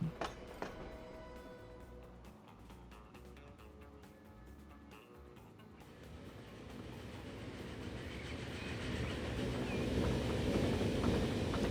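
Flying Scotsman steam locomotive in the Transport Fever 2 game powers past, a rumbling rail passage with faint clicking that builds from soft to loud across the span, no talk over it.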